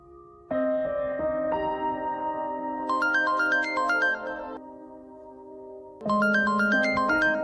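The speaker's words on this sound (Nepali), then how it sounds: "कसको फोन हो? दाइको फोन हो।" A phone ringtone plays a bright electronic melody alone, loud and close, in repeating phrases of sustained chords and quick high note runs, with a short pause before the tune starts again.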